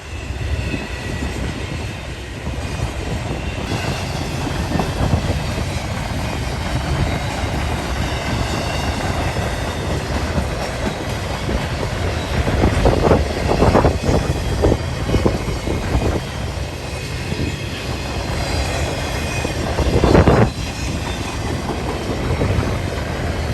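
A long CSX freight train rolls past close by with a steady heavy rumble and rhythmic clacking, and brief sharp wheel squeals rise at a few points.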